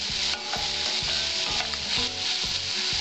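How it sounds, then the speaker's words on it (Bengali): Sliced onions fry with salt in hot oil while being stirred toward reddish brown, a loud continuous sizzle with rhythmic scraping stir strokes close by. "পেঁয়াজটা আমি ভাজবো লাল লাল করে।"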